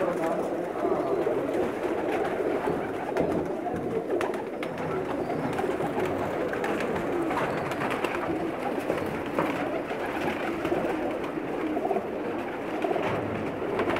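Soft, steady cooing of several Pakistani pigeons fills the background, a continuous murmur of low calls with faint talk mixed in.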